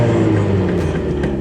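A 2.0 engine in a MK4 VW Jetta during a tuning session holds a steady 3,000 RPM, a loud, continuous close-up drone with even harmonics and no pauses.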